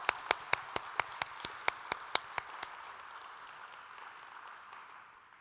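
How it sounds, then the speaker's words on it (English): Applause at a 2021 general assembly begins as a run of about a dozen sharp, evenly spaced claps, then softens into a diffuse patter that fades away. "Again, a round of applause."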